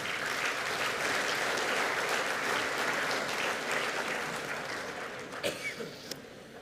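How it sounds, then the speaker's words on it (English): An outdoor crowd at the Finke Desert Race event in central Australia breaks into steady, full applause that fades out near the end, leaving a few scattered claps. "give yourself a round of applause for that"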